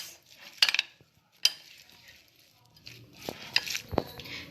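Chicken marinade mixed by hand in a bowl with a utensil, a few scattered clinks and scrapes with quiet wet stirring between them, fairly faint and without talk.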